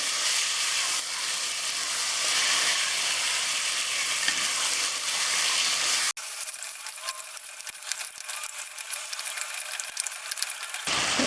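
Mutton frying in hot oil for mutton masala, a steady dense sizzle with scraping stirring, continuous and close, dropping to a thinner, quieter frying hiss partway through.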